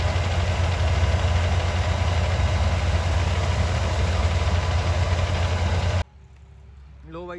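A combine harvester engine idles loudly and close in a wheat field, a steady deep diesel rumble with vibration that cuts off abruptly near the end, leaving quieter background sound.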